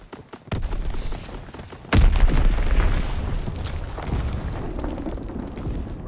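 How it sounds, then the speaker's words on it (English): Bomb explosions and gunfire in Call of Duty: WWII, with a sharp blast early on and a heavier boom about two seconds in, followed by a sustained rumble and dense crackling fire, loud and continuous. "Enemy bomb incoming!"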